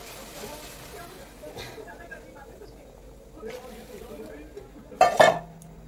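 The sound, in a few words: stirring sago pudding (sabu payesh) with milk in a pot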